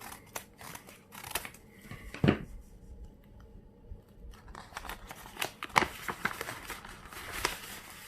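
Scissors snip and crinkle through packaging while a parcel holding silver is opened up close. Scattered cuts and rustles come in uneven bursts, with a brief quiet stretch in the middle.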